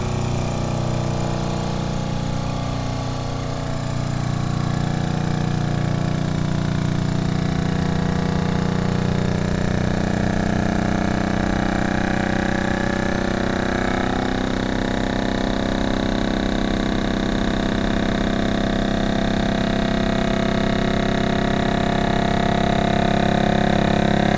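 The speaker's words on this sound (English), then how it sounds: "I have to hit my auto vac and seal, and here we go." A chamber vacuum sealer runs its automatic vacuum and seal cycle, giving a steady, close motor hum and pump drone that continues unbroken, with no talking over it.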